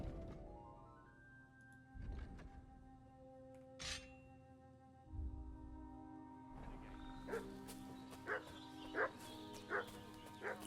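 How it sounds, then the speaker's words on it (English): A dog barks in Kingdom Come: Deliverance 2. Sharp barks and yips come in a repeated run through the second half, over quiet game ambience and music. "What's that dog making such a fuss about?"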